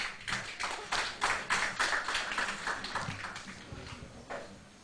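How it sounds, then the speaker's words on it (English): An audience at a quiz contest claps for a contestant who answered correctly: a brisk run of distinct, evenly spaced claps that starts strong and gradually thins and softens. "Clap for him."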